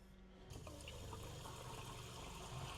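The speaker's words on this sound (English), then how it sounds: "So when you turn it on, you can hear the water pump priming." An RV water pump primes in a rental camper's cold water system: a faint start, then from about half a second a steady rushing flow of water with a low pump hum beneath, continuous to the end.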